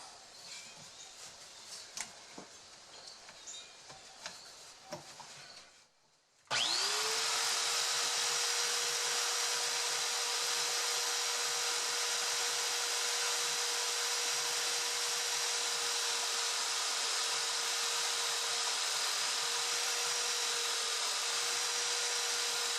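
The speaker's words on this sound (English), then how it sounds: "I'm just going to use the belt sander." Belt sander grinding down the wooden bridge of a Taylor GS Mini guitar: after faint handling noises the motor starts abruptly and runs as a loud, steady, hissing whine to the end, with no talk.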